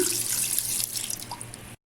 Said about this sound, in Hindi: इसके अंदर हम डालेंगे तकरीबन 2 गिलास पानी